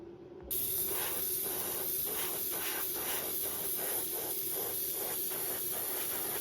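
An airbrush starts up and sprays green paint onto a rainbow trout swimbait lure, a sudden steady hiss close by with a faint rhythmic pulsing beneath it, and no voices.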